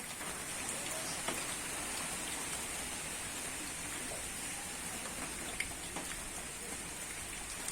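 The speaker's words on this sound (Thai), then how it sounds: "โอ้ฝนตกดีดีใกล้จะเข้าช่วงหน้าหนาวแล้ว" Steady rain pouring down on a duck and chicken farm as the cool season nears, a dense continuous patter with occasional louder drops hitting nearby surfaces.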